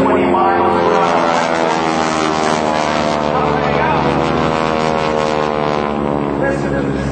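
A propeller aircraft engine, likely a P-51 Mustang, drones loudly and continuously through a loop, its steady buzzing roar shifting slightly in pitch over the top and back.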